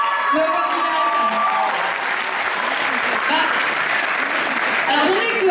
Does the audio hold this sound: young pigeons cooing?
no